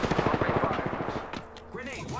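Rapid automatic gunfire in Apex Legends, a fast burst of close, sharp shots for about a second and a half, followed by a short pause and faint game effects.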